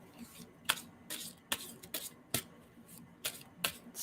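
Tarot cards being shuffled close up, a series of crisp riffling bursts at irregular intervals over a quiet room background.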